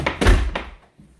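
A house's heavy front door, fitted with a large knocker, thuds shut close by. A loud, deep, woody knock is followed by a second bump, then a short fading rumble and near silence.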